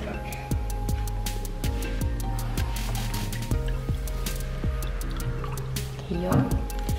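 Water is poured into a container in a home kitchen, giving a soft liquid trickle and fill under a steady, rhythmic ticking beat, with low background sounds throughout.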